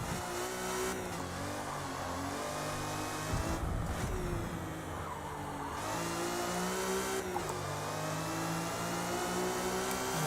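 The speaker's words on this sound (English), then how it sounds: "driving an old car" An old car's engine revs steadily while driving, with a droning, mid-pitched hum that rises and falls through gear changes and carries on without a break.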